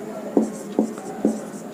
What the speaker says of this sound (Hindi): तो लिख लेंगे, इसको कैसे लिखते हैं, आई से लिखते हैं